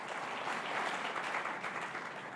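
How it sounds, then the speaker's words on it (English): A dense, steady wash of audience applause welcoming a spotlight panel at a design and engineering summit, unbroken and fairly loud from start to finish with no voices above it. "first welcome all of them with one more round of applause"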